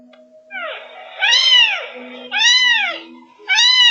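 A kitten meows loudly and plaintively three or four times in succession, each cry rising and falling, close up with faint background hum.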